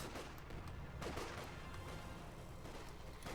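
Dense gunfire in the WWII strategy game Company of Heroes 2: a steady rattle of rifles and machine guns with bursts of heavier fire, distant and muddy, as Grenadiers fire on US riflemen.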